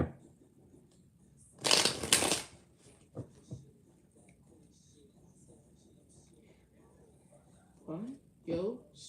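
A deck of cards is shuffled for a card reading in two quick, close riffling bursts. Quieter speech and other soft sounds follow.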